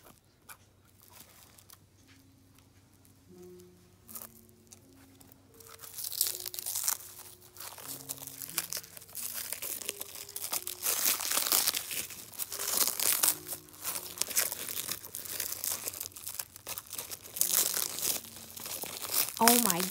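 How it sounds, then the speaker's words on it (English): Crinkling and tearing of hard plastic wrapping as a 2010 San-Ei Yoshi plush is cut free, close and fairly loud crackles building up after quiet background music, continuing steadily to the end. "he's in this hard ball. So let's go ahead and cut him out."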